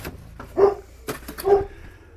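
Indoors, a dog lets out two short, moderately loud barks about a second apart, with a few soft knocks and thumps from movement in between.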